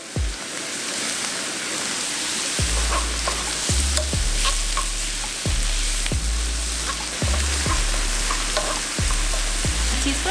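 Shrimp sizzle steadily in garlic butter for fried rice, a loud continuous frying hiss broken by repeated clanks of a utensil stirring against the pan.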